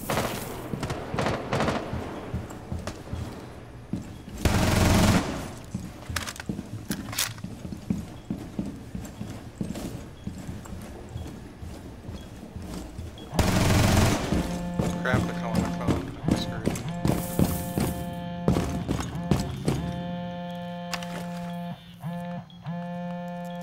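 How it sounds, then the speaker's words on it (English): Rapid gunfire bursts in the shooter game Rainbow Six Siege on the Club House map, sharp cracks repeating in clusters and echoing against a busy game soundscape with occasional electronic tones. "they're shooting into Bravo already"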